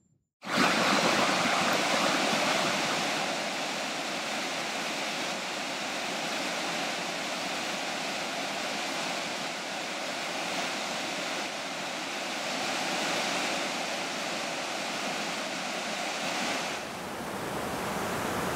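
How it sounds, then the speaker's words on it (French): Waterfall cascades on the Horton River pour in a dense, steady roar that starts abruptly and stays loud and unbroken for nearly eighteen seconds, with no voices. "on va voir les cascades de la rivière Horton"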